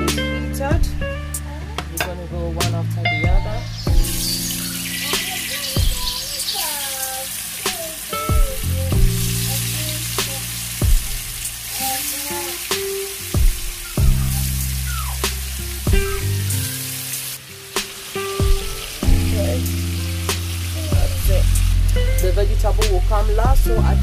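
Oyster mushrooms fry in heated oil in a home kitchen, with a steady loud sizzle, repeated stirring scrapes and occasional clinks of a utensil against the pan, and a voice talking at times.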